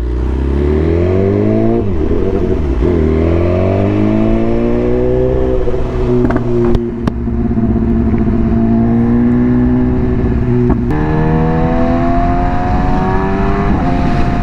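A BMW S1000RR motorcycle engine idles and revs loud and close, its pitch climbing and falling through several throttle blips in a continuous rumbling whine, with no talk over it.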